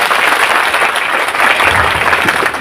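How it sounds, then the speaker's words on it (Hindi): A crowd applauds loudly and continuously at an outdoor political rally, dense clapping holding steady for a few seconds without speech. "जोरदार तालियां।"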